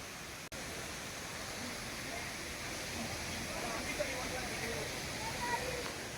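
Lakkam waterfall in Munnar sends out a steady, broad rushing hiss at a moderate distance. The sound grows slightly fuller over the few seconds, with a brief click near the start.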